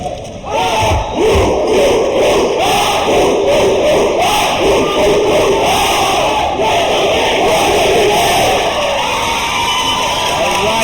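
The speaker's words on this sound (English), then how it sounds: "The cheers go up from the crowd" Loud, dense crowd roar and cheering fill a gym at a boys' basketball final, sustained and rowdy throughout with shouts rising and falling but never breaking.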